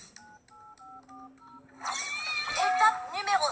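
Telephone keypad tones beep in a quick series of distinct dialing notes while a call is placed to a school in a French animated show, followed by excited voices talking loudly.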